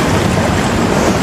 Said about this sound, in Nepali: यहाँ पानी निकै बुलबुले पानी बगिरहेको अवस्था